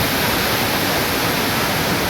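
A steady, dense rush of falling water roars without pause, like a waterfall heard up close.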